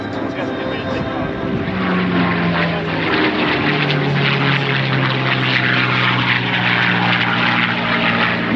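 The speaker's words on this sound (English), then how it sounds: "after the P-51D Mustang, listen to that Allison" A P-51D Mustang propeller fighter with an Allison engine roars past at a Southern California airshow, a loud, steady engine drone throughout with a shifting pitch and a voice talking over it.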